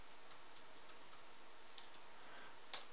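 Light, quick keyboard clicks in a brief burst, faint and close, with a sharper tap near the end.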